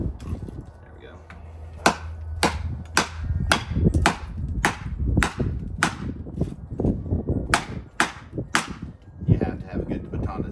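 A DREGOTH knife is struck repeatedly with a wooden baton to split wood, giving a series of sharp, loud knocks in an irregular rhythm, close by, over a low background rumble.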